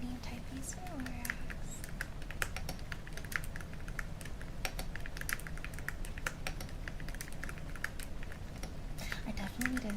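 Fast, steady typing on a loud, clicky computer keyboard, close up, with dense rapid key clacks running throughout and a soft voice talking faintly underneath.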